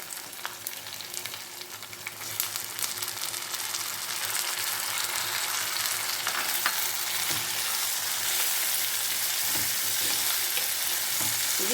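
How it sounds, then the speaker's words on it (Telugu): Tomatoes sizzle and fry steadily in a hot pan while pumpkin dappalam is cooked, a continuous close crackle that grows slightly louder after the first few seconds, with occasional stirring scrapes. "ఇది కొంచెం వేగనిద్దాం ఇప్పుడు ఇందులో టమాటాలు వేసేద్దాం"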